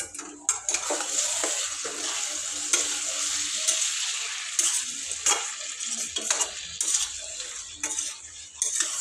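Potato and fenugreek-leaf curry with tomato being stirred in a hot pan, a steady sizzle with repeated scraping and clinking of the spoon against the metal, close and continuous with no talk.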